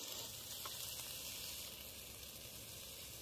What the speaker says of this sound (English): we're just sauteing up them pineapples now